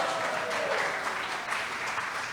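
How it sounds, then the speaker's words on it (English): An audience at a Srila Prabhupada festival gives a steady round of applause, a soft, even wash of many hands clapping, fairly distant and alone. "A round of applause."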